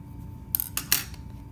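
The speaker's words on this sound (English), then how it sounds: "now we can just cut it" Scissors snip through sewn elastic on an upcycled sundress skirt, two or three quick, sharp metallic cuts close up in an otherwise quiet room.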